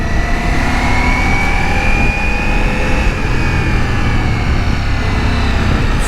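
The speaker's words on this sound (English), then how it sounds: "At higher RPMs, this bike has a character, man." A Ducati Multistrada V4 Pikes Peak motorcycle revs at high RPM on a ride, giving a loud, continuous engine drone with rising pitch, heavy wind rush and no speech.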